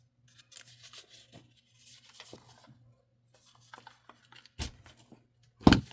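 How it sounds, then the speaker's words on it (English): A handheld corner rounder punches through a thick stack of paper scraps for small booklets, with quiet rustling and handling of the papers and a few sharp crunching snaps of the punch, loudest at the end. "Okay, now I'm going to take my corner rounder. I don't think it will cut through all of these papers."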